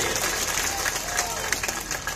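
A crowd at a political rally in Chandla with the Chief Minister present bursts into dense, steady applause, a continuous wash of clapping with a faint hum and some voices underneath.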